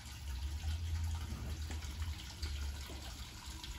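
Water runs steadily from a tap on a water filter system, a soft, continuous low rush of flow lasting a few seconds with no talking.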